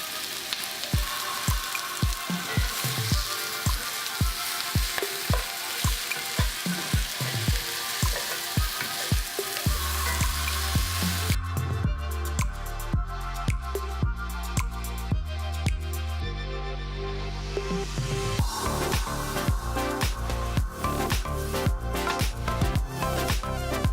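Brussels sprouts and bacon sear in a pan with a steady sizzle and crackle, largely covered by rhythmic background music throughout.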